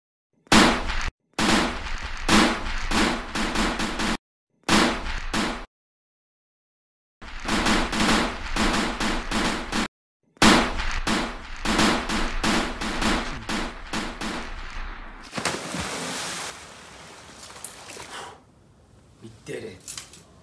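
Rapid bursts of automatic gunfire from ghost guns in a Fortnite-style battle royale match, loud and repeated in several long volleys with short pauses, ending in a noisy wash of effects.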